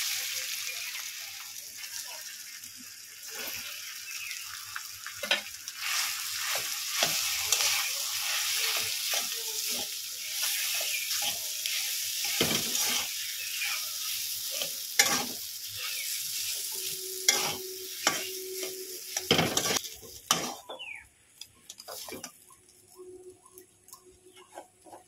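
Potatoes frying in a pan, a steady hissing sizzle with repeated scraping stirs and clicks of the spoon, the sizzle easing off near the end as quiet sounds continue.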